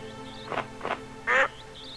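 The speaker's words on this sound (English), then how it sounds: "You didn't, like, edit that sound in, did you? What, the duck?" Three short duck quacks from the Shenmue 2 video game, evenly spaced and fairly loud, the last one brighter and louder than the first two, over a quiet background hum.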